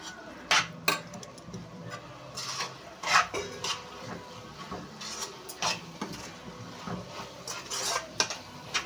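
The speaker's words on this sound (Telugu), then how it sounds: "ఇదైతే వేసేసి మళ్ళీ ఫ్రై చేసుకుందాం." Ginger garlic paste frying in a pan, heard as repeated metallic clinks and scrapes of a spoon stirring against the pan, close and irregular over a faint background hiss.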